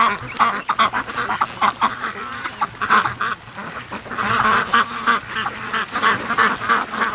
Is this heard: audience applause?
no